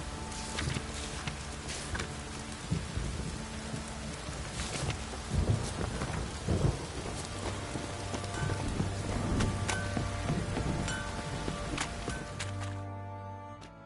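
Steady rainfall from a downpour in the video game The Witcher 3: Wild Hunt, with a low rumble of thunder building midway, continuing as an even wash of rain over faint background sounds before fading out.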